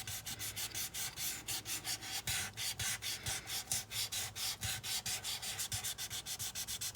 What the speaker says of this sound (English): But you don't want to sand too much, because if you sand too much, it'll mess with your Skinner blend.